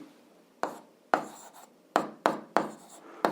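An algebra expression written by hand: a series of short, close scratchy strokes, each starting sharply and tailing off, in an uneven rhythm with brief quiet pauses between them.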